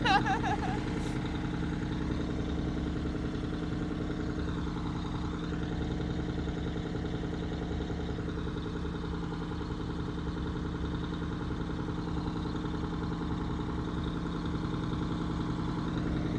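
A Kenworth W900A truck engine idles steadily nearby, a low, even rumble with a faint whine, continuing unchanged throughout.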